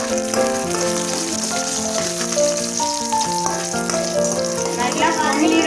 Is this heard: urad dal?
yes